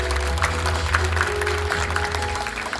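Applause from an audience at a book concert in a Jeju university hall welcoming a speaker, a dense, even patter of clapping over a low hall hum, continuous and moderately loud.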